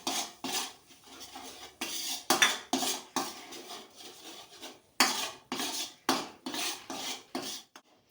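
A spoon scrapes repeatedly in a pan as coarse flour roasts in a little ghee with fried edible gum for halwasan. The strokes come in an uneven rhythm, crisp and close, with quiet pauses between.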